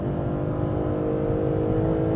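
A Mercedes GT race car accelerates hard on the Nordschleife, its engine a loud, steady, close roar held throughout with no talk over it.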